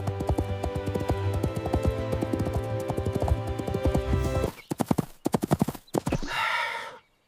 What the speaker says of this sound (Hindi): The horse is running.